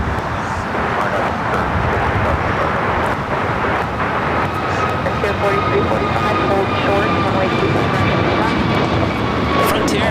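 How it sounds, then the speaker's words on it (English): A Frontier Airbus A321 in Polar Bear livery, arriving from Denver, roars loudly as it comes in at LAX. The engine rumble is broad and steady, and whining engine tones rise over about ten seconds while a voice talks over it. "This flight coming in from Denver on this A321"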